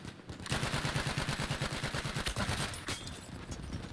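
Rapid, dense gunfire from the Battlefield 1 video game, with close, loud shots cracking in quick succession over a constant background of battle noise.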